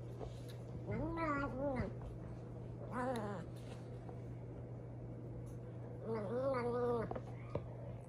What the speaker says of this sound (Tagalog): Nag-i-hits ang aming pusa.